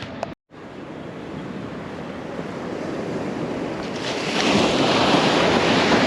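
Ocean surf rolls onto a surfing beach along the Pacific coast as a steady, loud wash of breaking waves mixed with gusting wind buffeting the microphone, building louder toward the end with no voices.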